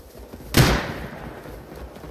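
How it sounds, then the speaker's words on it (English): A single loud gunshot rings out in the survival video game Rust, fired from a rifle fitted with a muzzle brake, a sharp crack with a short decaying tail over quiet background. "How did he shoot through that freaking bush like that?"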